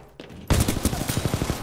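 Automatic pistol in Titanfall 2 firing a quick rapid burst of close, loud shots in an even rhythm after a short quiet lead-in.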